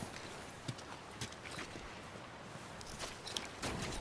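Horse hooves clip-clopping in The Last of Us video game, a series of faint, irregular hoof knocks over a steady background hiss with no speech.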